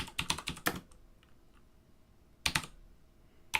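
Python code goes in on a computer keyboard in quick clustered keystrokes, a pause, then another short burst and a final tap, close and fairly quiet with no voice.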